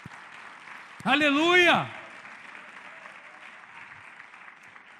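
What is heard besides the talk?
church congregation applauding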